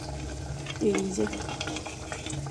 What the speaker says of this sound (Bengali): এই যে এখানে বেগুন ভাজাটা হচ্ছে, আর এইখানটায় দাঁড়াও খিচুড়িটা বসিয়েছি, হয়ে গেছে, একদম ফুটে উঠেছে এই দেখো।